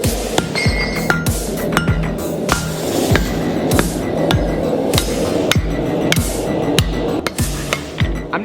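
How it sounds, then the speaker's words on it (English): A hammer forges hot steel into the handle of a push dagger, striking in a steady rhythm of close, ringing metallic blows over a constant background hum. "I'm gonna start forging down that handle shape into the shape that I want it to be."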